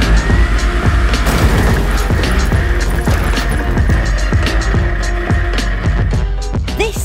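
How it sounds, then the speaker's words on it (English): A huge stunt monster truck that crushes and jumps cars roars loudly and continuously, with dense engine rumble, repeated heavy thuds and crunching impacts throughout. "A monster truck that crushes and jumps cars."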